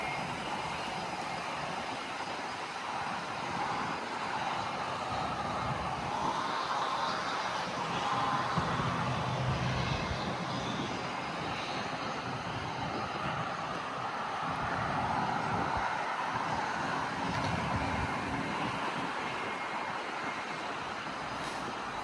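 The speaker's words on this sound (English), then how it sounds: "it's very loud in the background because like I said, you're right beside the airstrip where plane is taking off and landing" Airplanes take off and land at the Fort Lauderdale airstrip beside a park trail, producing a heavy, continuous jet roar that swells and fades slightly over twenty seconds, loud and close, with no talking.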